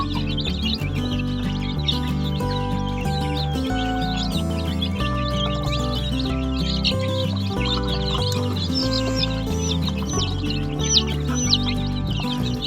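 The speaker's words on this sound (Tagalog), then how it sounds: "itong ating mga sisiw mga ka-farmers ay mayroong ibang nanghihina." Weak chicks on a farm, their high peeping repeated in overlapping calls above a steady, humming low-pitched background, with no voices.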